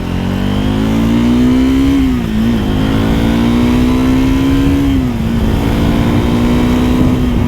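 A loud single-cylinder 2024 Triumph Scrambler 400 X motorcycle engine revs close up, its throbbing pitch rising and dipping twice as the throttle changes.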